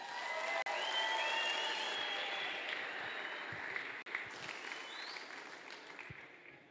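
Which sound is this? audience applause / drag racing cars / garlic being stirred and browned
audience applause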